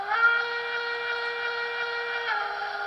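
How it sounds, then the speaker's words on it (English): A C&O steam locomotive whistle played by the sound system of a Broadway Limited Hybrid K2 Mikado model train: one long, steady, reedy chime tone holding for nearly three seconds at moderate volume, alone. "it sounds like a C&O whistle to me"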